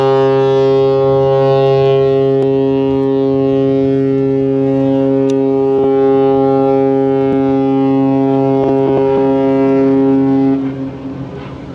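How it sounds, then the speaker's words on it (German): A container ship on the Elbe sounds its deep horn in one long, loud, sustained blast that holds for about ten seconds before cutting off, with faint clicks and background noise around it. "Hörner von Containerschiffen zählen übrigens doppelt."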